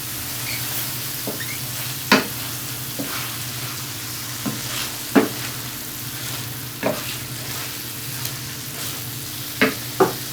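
A cumin mixture being stirred in a frying pan: a soft steady sizzle broken by a handful of sharp spatula scrapes and taps spaced a second or two apart, close by.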